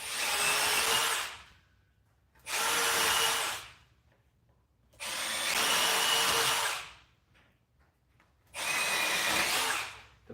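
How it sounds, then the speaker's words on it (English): Power drill boring into the corners of a box cutout with a small quarter-inch bit during tongue-and-groove wall installation, four loud close bursts of high whining drilling, each a second or more long, separated by short quiet pauses. "I like to run a small drill bit, like 1/4 inch or so, into each corner"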